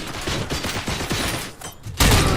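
Dense, continuous gunfire in the video game RoboCop on PS5, a rapid stream of overlapping shots with a brief dip before a louder burst at the end.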